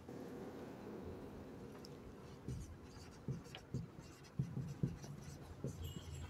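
A pen or chalk writes on a board in a classroom physics lesson, with soft scratchy strokes and taps in irregular bursts that grow more frequent toward the end, close and quiet.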